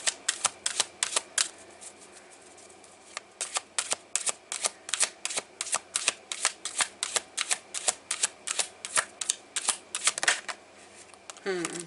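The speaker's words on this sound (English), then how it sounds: "I'm going to take the Soul Coaching Oracle cards here" Soul Coaching Oracle cards are shuffled by hand in repeated crisp riffles, a fast rhythmic burst of flicks and slaps that pauses briefly before continuing, loud and close.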